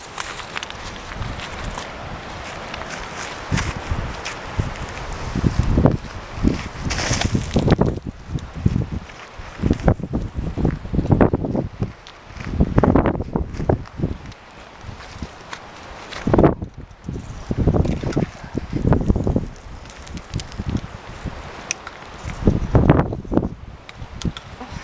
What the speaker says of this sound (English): It's a little windy, so hopefully you guys can hear me